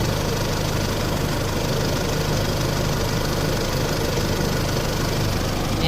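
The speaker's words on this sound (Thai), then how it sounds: "นี่คือ การสั่นของเครื่องยนต์ดีเซลนะครับจะเห็นได้ว่าค่อนข้างสั่นเยอะเลยนะครับ" A diesel engine idling and vibrating heavily, a loud, constant low rumble with rough knocking texture, close up and unbroken, with no talking.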